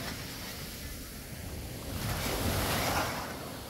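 Sea waves wash onto the beach at Ovabükü in Datça, a steady broadband surf wash that swells louder midway, with some wind noise and no talking.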